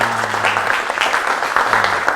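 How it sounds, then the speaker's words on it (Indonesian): Students in a classroom applaud together in dense, even clapping that stays loud throughout, with a low hum underneath. "Tepuk tangan semua."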